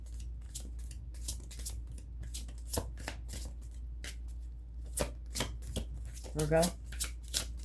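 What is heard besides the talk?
tarot cards being shuffled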